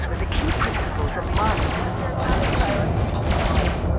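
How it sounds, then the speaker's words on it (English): Rapid laser fire from a spaceship in the space combat game Elite Dangerous, a dense, continuous crackling volley over a heavy low rumble, loud and sustained throughout. "Shoot with lasers."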